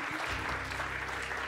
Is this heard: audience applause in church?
yes